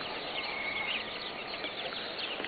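Faint chicken chirps and soft clucks over a steady hiss of background noise, distant and low in level.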